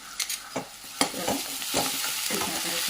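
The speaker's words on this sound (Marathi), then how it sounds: "आता आपण याच्यात अद्रक लसूणची पेस्ट घालूया." Ginger garlic paste is stirred into onions sizzling in a hot pan, with a few sharp clinks of a spoon against metal over a steady frying hiss, close up and without talk.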